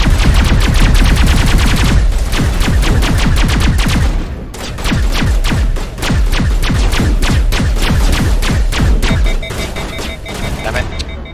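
An overheating weapon in Mass Effect Legendary Edition fires rapid, evenly spaced loud shots in long bursts with brief pauses, ending with a faint tonal whine as it heats up.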